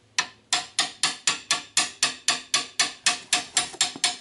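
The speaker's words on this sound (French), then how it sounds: "Un petit coup de marteau." Fourteen sharp metallic hammer taps at an even, quick pace on the front axle of a Citroën Traction 11B, close and clear with no voices.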